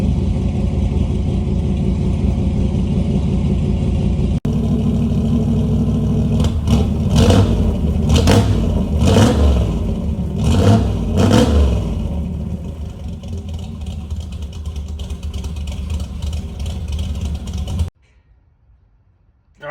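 A car engine with an electronic choke runs loud and close, rough and choked, with a cluster of sharp rhythmic revs in the middle before settling back and cutting off abruptly near the end.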